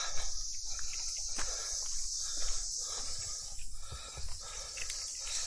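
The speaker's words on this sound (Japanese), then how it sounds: "セミが鳴いてるわ。" Cicadas sing steadily outdoors on an Okinawa morning, a continuous high buzzing drone that persists throughout, moderately loud, with light rustling and footsteps beneath.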